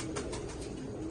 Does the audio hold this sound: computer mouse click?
no